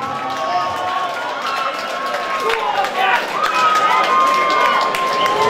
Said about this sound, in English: Well, ladies and gentlemen, big round of applause.